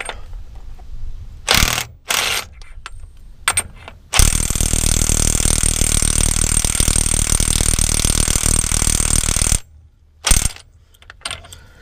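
An electric impact wrench strains against the pinion nut of a 2004 Nissan Titan, with short bursts followed by a long continuous loud hammering run, then a couple more brief bursts.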